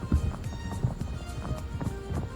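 Footsteps of a bot approach in the video game Arena Breakout, a rhythmic series of soft thudding footfalls at a brisk pace, moderately loud over a low background hum.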